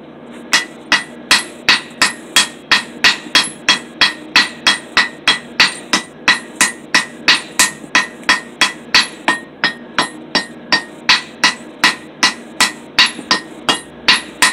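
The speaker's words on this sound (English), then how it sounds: "playing a little music on this anvil now" Steel hammer strikes a metal cable Damascus billet on an anvil during forging, ringing out in a fast, steady rhythm of about thirty loud, bright clanging blows with no talking.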